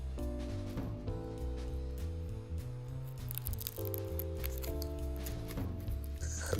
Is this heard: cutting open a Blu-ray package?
yes